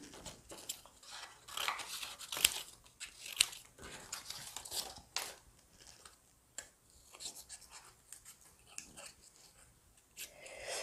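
Scissors snipping through paper while making a pop-up book, a series of crisp irregular cuts and rustles close by, with no talking.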